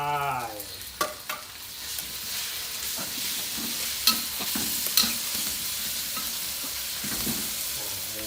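Beef dropped into hot fragrant oil in a wok and stir-fried, a steady sizzle with sharp clanks and scrapes of the spatula at irregular moments, close and alone without voices.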